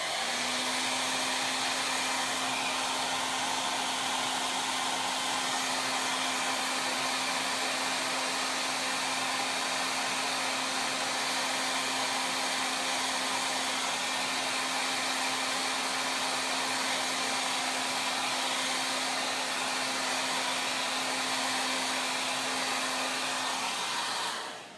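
A heat tool blows without a break to dry Chalk Couture ink, a steady loud whooshing hum with a constant motor whine that runs close and unchanging before cutting off at the end.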